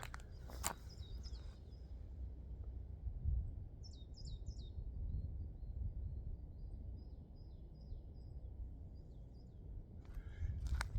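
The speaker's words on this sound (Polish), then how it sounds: "tym bardziej słyszę przepiękne odgłosy natury, ptaków." Birds call in a quiet winter forest: a sharp crow-like caw near the start, then sequences of quick, faint chirps and tweets scattered across the clip over a low rumble of wind, with soft footstep-like crunches.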